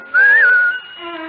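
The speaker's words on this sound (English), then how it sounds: "give a little whistle" A person whistles one loud, close, sustained note that bends slightly up and back down, then eases into a softer held tone. It comes from a radio-theater Pinocchio production.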